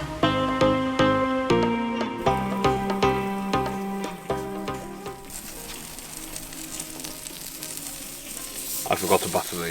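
Beef hot dogs and bacon sizzle on a barbecue at a cabin, a close, continuous frying crackle with bursts of popping toward the end.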